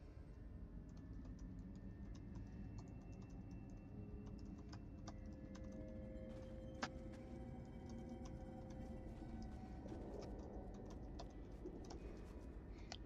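Someone types rapidly on a computer keyboard, a steady stream of soft, close clicks and taps over a low background hum during an online game.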